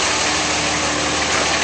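A 2006 Dodge Ram 2500 pickup truck engine idles steadily and smoothly, humming continuously with an even low rumble and broadband noise, with no talking.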